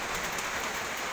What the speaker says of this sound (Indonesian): cuaca agak mendung ya, lagi hujan